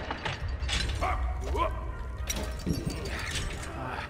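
A dog barks a few short times inside the First World War video game Valiant Hearts, mixed with game music and mechanical clanks, while someone talks over it in Hindi.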